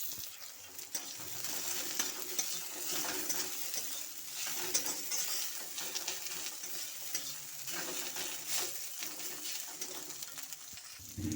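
Onion and ginger paste frying in a pan while being stirred, a steady close sizzle with soft scraping strokes throughout, and birds cooing faintly in the background.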